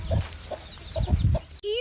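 A chicken clucks in several short, close bursts outdoors near a tree, followed by a brief higher squawk at the end.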